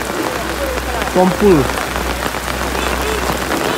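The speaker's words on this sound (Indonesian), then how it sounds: "Meski hujan deras" Heavy rain falls steadily on surfaces outdoors on a mountain road being repaired and widened, a dense loud hiss throughout, with a voice briefly speaking over it.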